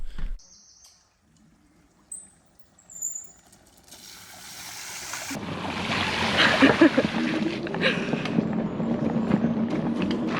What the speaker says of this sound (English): We've just made it down to our local ford, and we've got to cross some water now